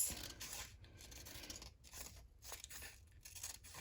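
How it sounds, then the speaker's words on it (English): Very faint, close snipping and rustling of scissors cutting strips of paper for paper beads, a soft irregular series of short cuts and paper scrapes with no voices. "I'm gonna cut these strips."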